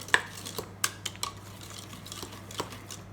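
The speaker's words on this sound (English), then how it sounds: "Just keep on whisking" A whisk clinks against a bowl of thick brownie batter in quick, irregular taps and scrapes, close and fairly quiet, with no one speaking.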